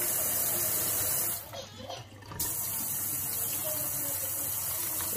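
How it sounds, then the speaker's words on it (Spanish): Water flowing from a Lidl LED temperature-indicating faucet, a steady hissing stream with a brief dip partway through, faint and close, no speech over it. "también me he dado cuenta que sale el agua con mucha más presión"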